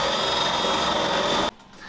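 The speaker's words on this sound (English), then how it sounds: "When I'm using this, as I'm drilling through, I have to literally count the layers as I go through" Power drill boring through layered plywood inside an old 40-year-old boat, a steady loud grinding whine close by that cuts off abruptly near the end, leaving a quiet tail.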